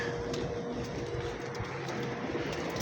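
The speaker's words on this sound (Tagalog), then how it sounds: "Ang ganda ng mga kalapati ni Kabayan." Pigeons in a small loft give soft, low cooing over a steady background hum, faint and continuous with no talk.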